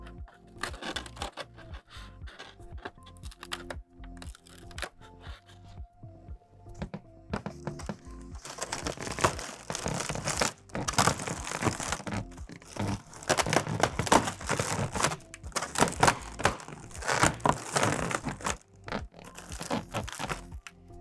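Tape is peeled off a backing for a balloon base, heard as close, fitful crinkling and tearing bursts that grow denser and louder in the second half, with no talk.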